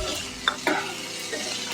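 Chopped vegetables and tomato stir-fried in a pan, with a steady close sizzle broken by a few sharp spatula scrapes and clinks against the metal.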